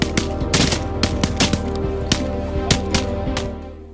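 Rapid bursts of gunfire from hunters shooting at wild boar, a dense series of loud sharp shots in quick, uneven succession that tapers off near the end, with no talking.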